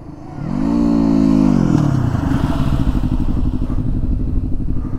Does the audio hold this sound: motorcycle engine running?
yes